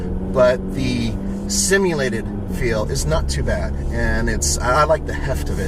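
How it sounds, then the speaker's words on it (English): A 2014 Jeep Cherokee's 4-cylinder engine drones steadily while driving, a low continuous hum sitting beneath constant talking. "so you can actually hear the engine kind of going"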